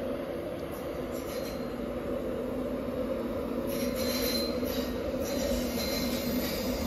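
LNER class 91 electric locomotive 91101 with its train leaving Platform 2 at London King's Cross, a steady rumbling rail roll with faint high wheel squeal throughout, moderately loud and continuous.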